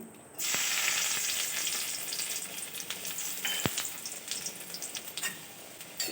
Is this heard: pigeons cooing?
no